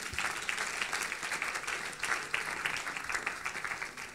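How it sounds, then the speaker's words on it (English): A church congregation at a prophetic night service in Accra claps for Jesus, a fast, rhythmic run of many hands with regular accented beats, moderately distant and steady throughout. "Clap your hands for Jesus."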